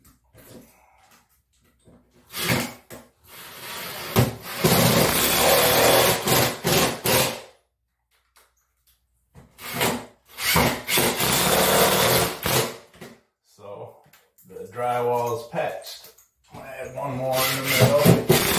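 During a bathroom refresh, a power drill drives screws to reattach a piece: several whirring, grinding bursts of a few seconds each, separated by quiet pauses, with a short stretch of nearby talk toward the end.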